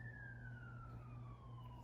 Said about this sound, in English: I'm going to wait for the sirens to go by.